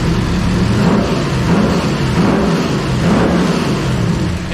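A supercharged 383 small-block Chevy in a 1932 Ford coupe, one with a fault that makes it die at random, revs loudly and continuously up close, the engine note rising and falling in surges.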